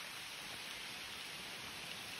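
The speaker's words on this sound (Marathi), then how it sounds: "पावसाने हजेरी लावलेलीच आहे सो पावसात ट्रॅक करण्याची मजा एक वेगळीच आहे" Even, hissing patter of rain falling steadily at Kasarwadi waterfall near Radhanagari, Kolhapur, quiet and continuous with no voices.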